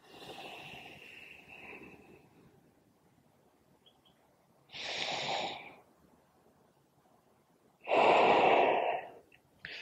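Two strong exhaled breaths during a yoga pose, each about a second long and close to the mic, come after a softer stretch of breathing. Quiet gaps separate them, and there is no talk.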